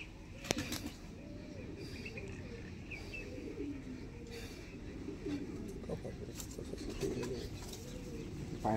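Kasuri Kalsira pigeons give repeated soft, low cooing calls at a loft, recurring steadily over a constant background hiss, with a few sharp knocks and flutters near the start and end.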